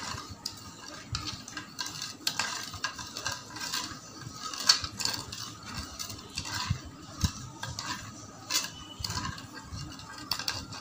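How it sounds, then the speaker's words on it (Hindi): A spoon clinks and scrapes steadily inside a glass as sugar is stirred into sharbat, a quiet, close, irregular tinkling that continues without pause. "और अब हम इसमें चीनी डालेंगे और हम इसे हिला लेंगे।"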